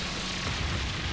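Brionac weapon blast in the game Trails of Cold Steel 3, a loud, dense, booming burst with a heavy low rumble lasting the whole short moment, no voices over it.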